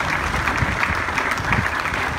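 A church congregation claps together in worship, a brisk, fairly even wash of hand claps filling a couple of seconds at moderate volume.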